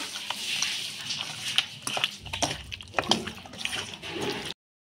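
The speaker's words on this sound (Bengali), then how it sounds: "সব মশলাগুলো দিয়ে একবারে ভালো করে সুন্দর করে মাখিয়ে নিচ্ছি মাছটাকে" Hands mix silver carp fish with spices, a close run of wet squishing and slapping that is steady and fairly loud and stops abruptly near the end, with no talking.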